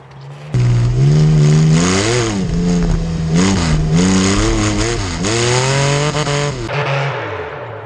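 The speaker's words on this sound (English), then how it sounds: "It sounds like a damn race car through the trees echoing." Tuned car engine revving hard and loud, its pitch rising and falling with each throttle blip as the sound echoes through surrounding trees, close and continuous with no talk.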